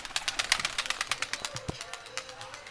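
Giribaz pigeons are handled close by, giving rapid bursts of wing flapping in quick repeated beats, with a faint voice and a brief low thump in the background.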